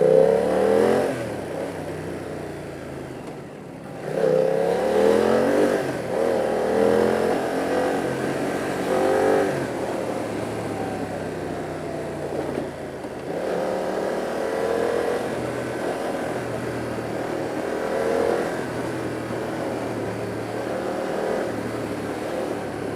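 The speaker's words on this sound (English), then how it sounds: "Grunty kind of engine. Seems like it wants to brawl." A BMW F 900 R motorcycle engine revs in repeated rising pulls while riding in Mumbai, its grunty note steady and fairly loud, with a brief dip in level early on.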